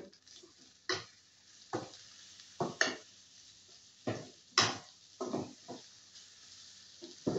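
Onions fry with garam masala, turmeric, chili, green chili and salt under a faint sizzle, punctuated by about a dozen sharp scrapes and clinks of a spoon stirring against the pan, with no speech.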